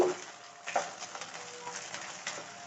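Ginger garlic paste fries in a pan for mushroom curry with a soft, steady sizzle, faint and close, broken by a few light stirring scrapes and clicks.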